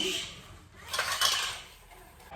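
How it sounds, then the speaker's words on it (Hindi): Dishes being washed, with pots and utensils clattering and scraping close by in a continuous, uneven burst of metallic knocks and rattles, no talk. "चलो फिर बर्तन साफ"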